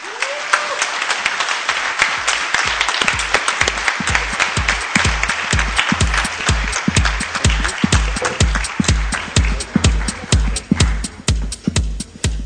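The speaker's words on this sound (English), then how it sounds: "let's give a big round of applause for the game magician" Audience applause at a 2011 game developers' conference, a dense, loud wash of clapping from a large crowd that keeps going strongly and evenly throughout.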